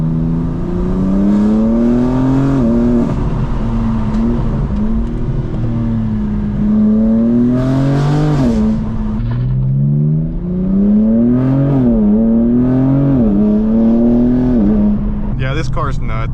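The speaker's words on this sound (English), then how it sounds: "on every shift, almost every shift, it'll like pop, like it'll sound crazy." BMW M4 G82 with catless downpipes and air intakes driven hard, its engine climbing through repeated rising revs with abrupt drops at each aggressive shift, loud and close from inside the car, with sharp bursts around the shifts.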